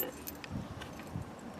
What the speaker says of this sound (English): It's got the original keys to it too.